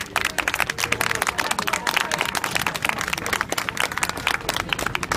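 Applause for security staff at the close of a Britain First march in Rochester, with dense, steady clapping from a crowd outdoors and voices mixed in throughout.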